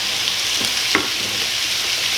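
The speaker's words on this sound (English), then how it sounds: "Lots of stirring." Sausage browns in a hot pan, a steady loud sizzle filling the whole span while a utensil stirs it with a few soft scrapes and knocks.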